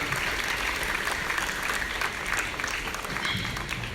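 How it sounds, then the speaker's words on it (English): An audience at a school annual day gives a sustained round of applause for the chairman, dense steady clapping from a full hall with no voices over it. "Give them a big round of applause for our chairman here."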